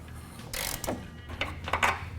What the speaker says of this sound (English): Use a 21mm socket and wrench to remove the bolt.